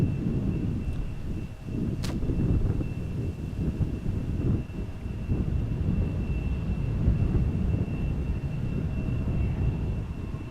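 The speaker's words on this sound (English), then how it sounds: "The Embraer is taxiing to the runway threshold, will not depart from over here." Embraer jet taxiing toward the runway threshold at Amsterdam Schiphol, a low, steady engine rumble sitting at a distance under broadband noise, with a sharp brief tick near the two-second mark.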